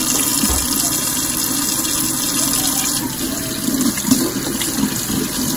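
Tap water runs steadily into a sink as makeup brushes are rinsed clean of soap, a continuous close splashing gush with small shifts in the flow throughout.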